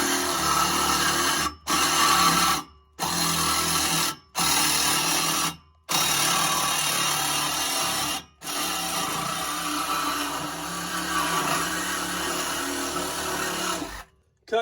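A power tool cuts through a Porsche exhaust pipe in loud, steady bursts separated by brief pauses, ending with a final cut that runs about six seconds before cutting out.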